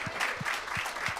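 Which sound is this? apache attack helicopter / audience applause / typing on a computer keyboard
audience applause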